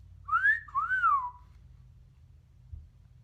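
Two short rising-and-falling whistled notes, clear and close, followed by quiet.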